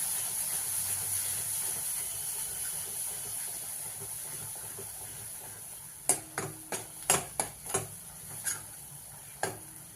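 Ground spice paste for dubuk vadi curry being mixed and fried in oil, a faint steady sizzle at first, then a quick run of sharp spoon clinks and scrapes against the pan near the end, with no voices.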